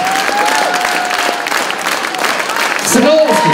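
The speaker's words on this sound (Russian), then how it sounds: "примите аплодисменты" A concert audience applauds steadily at moderate loudness, with a tonal whine and voices running beneath the clapping and a louder burst of noise near the end.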